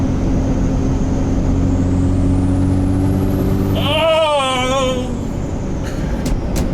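A common-rail Cummins-swapped Ford F-250 diesel truck pulls hard with a loud, deep, continuous engine roar; a brief warbling whine breaks through around the middle before the drone carries on.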